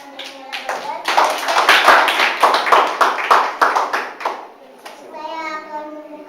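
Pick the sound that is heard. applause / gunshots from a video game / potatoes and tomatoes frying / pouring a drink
applause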